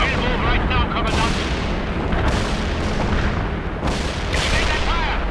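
Dense artillery barrage in the World in Conflict war video game, a loud continuous rumble of overlapping booms and blasts that stays heavy throughout, with voices talking under the roar.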